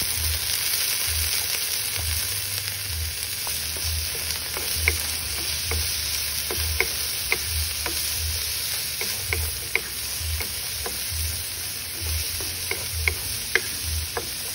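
Onions, garlic and carrots fry in a pan for ginisang sitaw with bacon, making a continuous close sizzle with rhythmic stirring scrapes and small clicks of a spatula against the pan.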